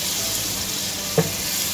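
Steady sizzling of garlic-ginger paste frying in a hot pan, with a brief clink partway through.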